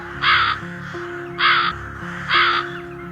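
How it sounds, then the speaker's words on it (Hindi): Three loud, harsh crow caws, evenly spaced, each lasting about a third of a second against a faint background hum. "लोमड़ी की गुफा से जोर जोर से आवाजें आ रही होती हैं कालू कौवे की"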